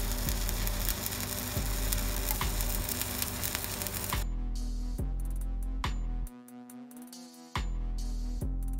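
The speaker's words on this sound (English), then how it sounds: "I'm welding these pans right here" Harsh crackling and sizzling of stick welding steel pans, continuous at first, then choppier with brief pauses and sharp pops.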